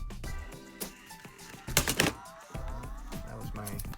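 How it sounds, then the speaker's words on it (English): A computer keyboard falls off the surface it was resting on, a sudden loud clattering burst of knocks in the middle, set among lighter tapping and background music. "That was my keyboard falling off the thing I put it on top of."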